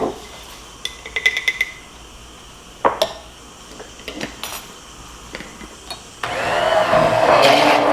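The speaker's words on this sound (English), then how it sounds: "And then I'm going to use the immersion blender." After scattered clinks of dishes and utensils, an immersion blender starts up and runs with a loud, steady whirring buzz for the last couple of seconds.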